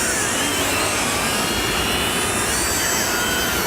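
A small WLToys Q353 toy quadcopter's motors buzz in a loud, steady whine mixed with a rushing noise, close and unbroken throughout.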